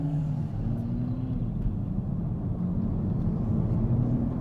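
Steady low road rumble and wind noise inside the cabin of a 2020 Toyota Supra accelerating at highway speed, a constant, fairly loud drone with no voices.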